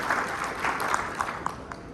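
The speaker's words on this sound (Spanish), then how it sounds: "Un aplauso para todos nuestros panelistas" Audience applause for the panelists closing a panel discussion, a steady wash of clapping with a few sharper claps standing out through the two seconds.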